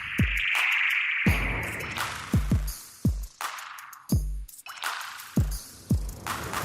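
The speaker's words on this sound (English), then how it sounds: "Oh, those twinkly little things. I love that sound. And this is just using echo." An Ableton Live 10 effect rack built around echo turns short percussive hits into twinkly, ringing tones. Sharp attacks repeat every second or so, and bright shimmering tails decay into one another.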